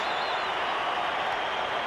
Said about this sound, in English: And the crowd loved it.